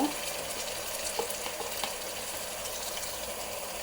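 Steady, dense sizzling of ginger garlic paste frying with onions in a hot pan, with occasional faint crackles and no voices.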